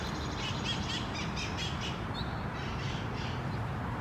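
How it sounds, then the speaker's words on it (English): Wild parrots flying around a city give harsh, repeated squawking calls, fairly distant over constant outdoor background noise. "We live in a city that has parrots that fly around."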